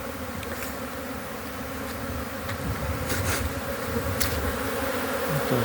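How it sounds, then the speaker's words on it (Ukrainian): Honey bees fly around a spring apiary, making a steady, dense buzzing swarm that stays loud throughout, with brief sharper passes as individual bees fly close. "Пчолки літають, літають з усіх сімей."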